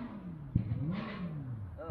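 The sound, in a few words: electric cross kart engine revving while shifting gear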